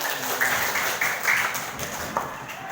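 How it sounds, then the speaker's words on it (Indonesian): Pupils in a classroom applaud their classmates during an Islamic faith lesson, a dense, steady patter of clapping with faint voices mixed in. "Tepuk tangan untuk teman kalian."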